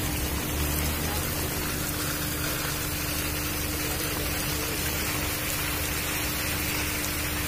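Rain falls on a film set, a dense, steady hiss of water covering everything with a low engine-like hum beneath, loud and continuous throughout.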